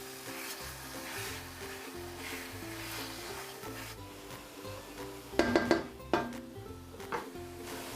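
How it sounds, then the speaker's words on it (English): Egusi soup in a pot sizzles softly under background music while a utensil stirs, then a few sharp clanks of metal against the pot ring out near the end. "So I'm just going to stir the pot together."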